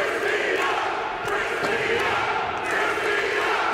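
A wrestling crowd at a women's main event roars steadily and loudly, with a dense wall of cheering and shouting and no clear commentary over it.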